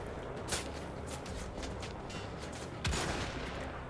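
Bursts of enemy gunfire in the first-person shooter Wolfenstein: The Old Blood, with sharp shots near the start and a louder burst near the end over a steady noisy game backdrop.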